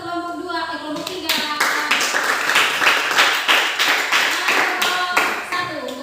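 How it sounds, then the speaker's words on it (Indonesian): A classroom of students claps for a presenting group, a brisk, fairly loud run of hand claps lasting several seconds after a brief spoken moment at the start. "tepuk tangan untuk kelompok 2, kelompok 3."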